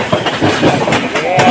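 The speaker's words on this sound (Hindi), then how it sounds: "आनंद विहार स्टेशन के प्लेटफॉर्म नंबर 3 से विक्रमशिला निकलने वाली है" Vikramshila Express pulling out of platform 3 at Anand Vihar station, a steady rumble and clatter of rail cars running continuously and fairly close, with faint crowd voices mixed in.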